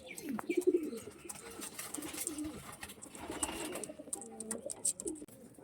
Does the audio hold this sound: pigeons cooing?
yes